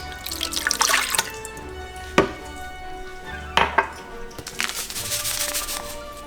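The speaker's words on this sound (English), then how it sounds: "we're gonna actually put the milk in first." Milk is poured into a kit cup before a green milkshake and ice are added, with liquid splashing and dripping and a few sharp clinks of cups or utensils, quiet voices faintly around.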